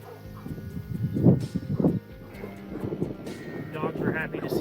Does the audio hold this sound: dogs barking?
yes